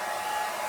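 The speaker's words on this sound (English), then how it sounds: "Start with my faithful hairdryer." A hair dryer blows steadily over a model railway board, a constant close whooshing hum with no variation in the short stretch.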